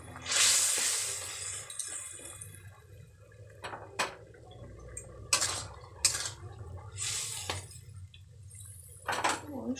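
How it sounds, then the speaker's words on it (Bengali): Vegetables for Bengali sukto, including potato and drumstick stalks, are stirred in a pan with a utensil, making a soft sizzle at first, then intermittent scraping and clinking strokes. "একটুখানি নেড়ে নেব।"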